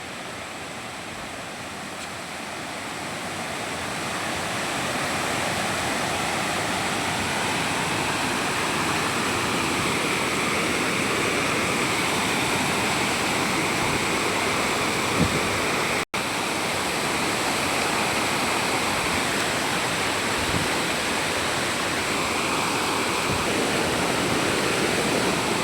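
A river swollen by rain rushes hard near the Panchalingeshwar temple, giving a loud, steady, unbroken roar of churning water that fills the whole stretch with no voices.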